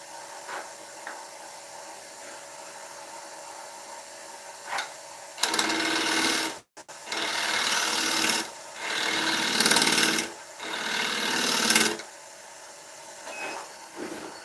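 An oak bowl's tenon being cut on a woodturning lathe gives several loud, rasping bursts of tool-on-wood noise over a low steady hum, with short quieter gaps between cuts.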